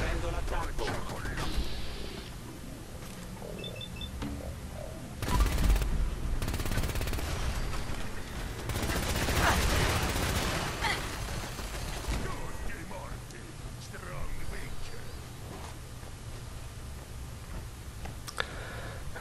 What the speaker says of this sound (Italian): c'è Strong che non so a chi sta sparando.